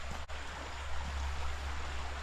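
Shallow creek of water running over rock along a wooded trail: a soft, steady wash of flowing water, faint and continuous, with no voices.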